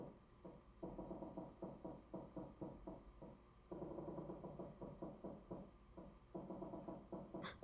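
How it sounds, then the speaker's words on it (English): Wooden creaking from a boat in the video game Nine Hours, Nine Persons, Nine Doors repeats in a steady, pulsing rhythm of short knocks and groans under a low hum, moderately loud and continuous. "the boat creaking noise"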